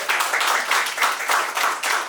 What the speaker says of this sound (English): Big round of applause for our mayor.